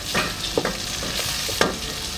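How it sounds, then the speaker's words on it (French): Onions with garlic, pepper and salt fry in a pan, making a steady sizzle with a few sharp spoon clicks against the pan, up close and without voices. "on laisse juste dorer un tout petit peu les oignons"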